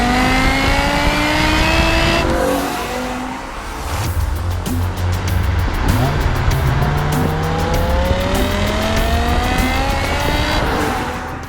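A manual BMW M5 Touring estate with a 5-litre V10 accelerates hard, the engine note climbing through the revs, dropping with a gear change, then climbing again, loud and sustained with road and wind roar and no talk.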